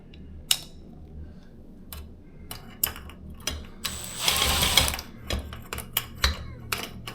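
Screws driven by hand to attach blades to a ceiling fan during installation: scattered sharp clicks and ratcheting scrapes, with a longer grinding burst midway, close and without talk.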